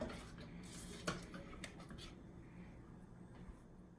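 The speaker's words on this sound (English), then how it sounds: "I've been stirring it for the last few minutes" Homemade play dough thickening in a pot as it is stirred, heard as faint scraping and a few soft clinks of a utensil against the pot under a low, steady background.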